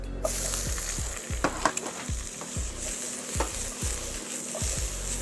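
Cucumber sizzles and crackles as it is stir-fried in hot oil for a Korean bibimbap, a steady close frying hiss broken by scraping stirs and sharp pops.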